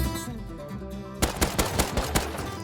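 An auto turret in the Rust video game opens fire, a string of rapid sharp shots over a steady low game-ambience hum, following a quieter stretch of background sound.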